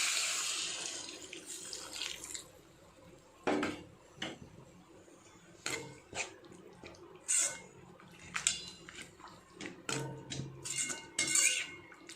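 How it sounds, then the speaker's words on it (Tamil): Water is poured from a tap into a pan of poori kizhangu kurma, a potato curry, as it cooks: quiet intermittent splashes and trickles with occasional light clinks of cookware in a kitchen. "தேவையான அளவு தண்ணி ஊற்றிக்கலாம்."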